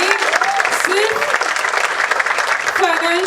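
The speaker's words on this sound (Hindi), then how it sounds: "एक बार जोरदार तालियां हो जाए।" Loud, dense applause from an audience at an offline trading masterclass, continuous clapping throughout with a few whistles or cheers rising above it.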